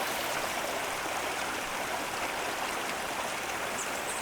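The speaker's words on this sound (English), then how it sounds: "We got another waterfall. Both of them are about 40 feet long." A garden waterfall about 40 feet long, set among mulched natural beds, gives a steady, dense rush of falling and splashing water, close and continuous with no pauses.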